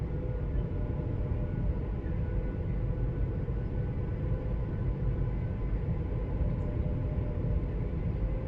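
A passenger train pulling away and gathering speed in the rail simulator Train Sim World 5, a steady low rumble with a faint hum running continuously and evenly throughout.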